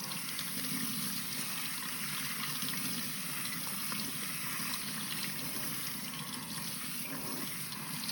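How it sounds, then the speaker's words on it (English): Tap water runs steadily over rice in a strainer during rinsing, a continuous close hiss and splash with no pauses or talk. "I'm going to put my rice into a strainer and run water over it."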